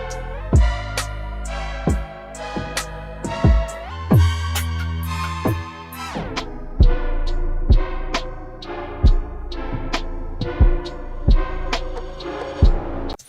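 Electronic dance remix of the Sugar Plum Fairy melody, pitch-bend warped through the Waves Sound Shifter plugin so the tones carry smeared, grainy artifacts, with punchy kick-and-percussion hits driving a steady beat throughout, no talking.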